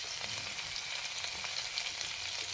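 Chopped ginger and garlic sizzle steadily in hot oil in a kadai, a soft continuous frying hiss with faint crackles and no voices.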